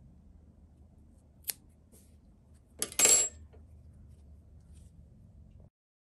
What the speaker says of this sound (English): And we are going to cut the green yarn.